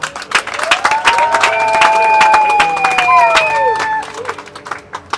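A wedding crowd in a church claps and cheers loudly and steadily, with voices, ululation-like calls and crowd babble mixed over continuous applause.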